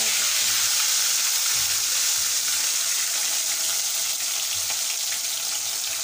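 Pieces of rohu fish fry in hot oil in a pan over a lowered gas flame, a loud, steady, close hiss and crackle of sizzling without talk.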